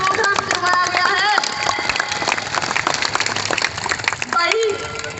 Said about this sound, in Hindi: जोरदार ताली उन शहीदों के लिए जिनकी याद में प्रोग्राम करवाया गया है